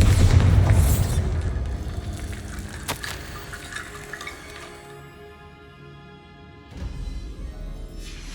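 In Hogwarts Legacy, a Bombarda spell sets off a deep, booming explosion right at the start. The blast decays into a long rumbling tail with scattered debris and faint rushing noise.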